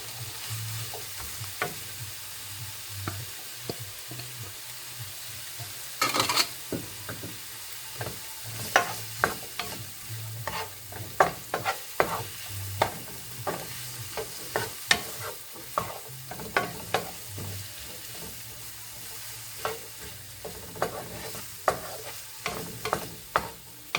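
Mushrooms fry in a hot pan, a steady sizzle broken by frequent scraping and clattering stirs that come in irregular bursts throughout, close and fairly loud, with no talking.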